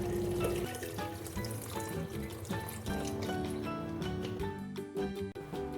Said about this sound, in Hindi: गोश्त को गलाने के लिए इतना पानी डालेंगे कि गोश्त तकरीबन डूब जाए।